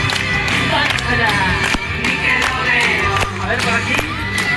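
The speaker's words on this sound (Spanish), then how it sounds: "A ver esas palmas por aquí, chavales, venga." A young audience at a Nickelodeon Fresh Air live show claps along in a steady rhythm over loud music and crowd noise, with sharp periodic beats cutting through the mix.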